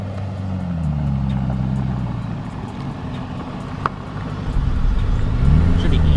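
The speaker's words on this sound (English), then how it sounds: "we're gonna send it up this little incline here, see how the Urus does" A Lamborghini Urus with raised air suspension climbs a short incline, its engine a steady low rumble that swells toward the end, recorded from inside the car at close range.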